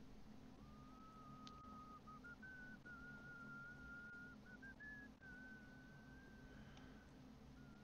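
A sustained, wavering whistle in Assassin's Creed Valhalla holds one pitch with small steps and brief breaks, heard over a steady low rumble and background noise.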